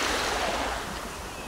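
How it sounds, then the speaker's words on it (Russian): Calm, clear sea at the beach in Alanya washes ashore as a soft, steady surf hiss that swells slightly and then eases off, with no voices. "Вот это вот идеальное, красивое море, спокойное, прозрачное."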